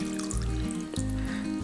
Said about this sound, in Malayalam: അപ്പോൾ അതിലേക്ക് വെള്ളം ഒഴിച്ചെടുക്കാം.